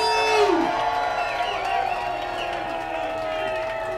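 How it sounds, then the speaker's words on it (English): A wrestling crowd cheers and whoops continuously in an arena, with scattered clapping and shouts mixed into a loud, steady roar, and voices heard within the noise. "Nice round of applause for her here."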